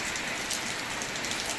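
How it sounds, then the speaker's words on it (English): Steady rain falls outdoors beside a car and garden plants, a dense, even hiss of drops spattering on surfaces, fairly close and continuous with no thunder or voices. "Wow, the rain's actually increasing, believe it or not."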